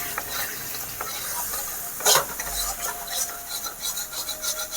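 Spice masala with a little sugar and water sizzles in a pan while being stirred, a continuous crackling hiss broken by scraping strokes and one sharper clatter near the middle, then quicker rhythmic scrapes.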